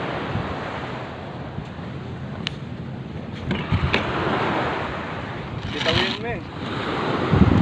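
Waves and wind on the beach at Dalahican Resort make a constant rushing surf with buffeting gusts against the microphone, and people talk briefly nearby.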